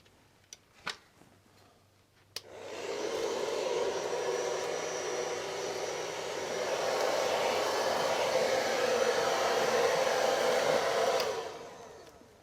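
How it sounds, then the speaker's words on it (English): A hairdryer blows steadily for about ten seconds, a loud close whooshing hum used to heat-seal plastic film over a window, preceded by a few faint clicks and ending with a switch-off. "to seal it, we use a hairdryer"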